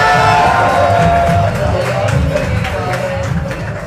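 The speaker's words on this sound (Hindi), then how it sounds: "पीछे वाले है तो एक बार ताली बजा के दिखा दो" A large seminar crowd in Ahmedabad, at a NexMoney mega seminar, breaks into loud clapping mixed with cheers, whoops and shouting, close and energetic, easing slightly toward the end.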